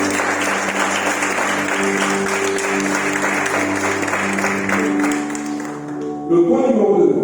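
A church congregation applauds during a Sunday worship service, a dense, sustained wash of clapping with some voices and a musical tone underneath, thinning out toward the end before a brief louder burst.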